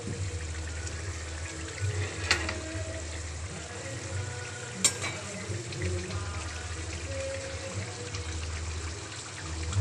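Water boils in a pan, ready for koi fish to be added, giving a steady close bubbling and trickling wash with two sharp clinks, and no talking.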